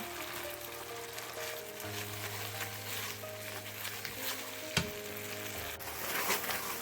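Sugar being stirred into a sauce in a pan for naga wings brings a continuous soft sizzle under a low hum, with scattered spoon scrapes and one sharp knock partway through.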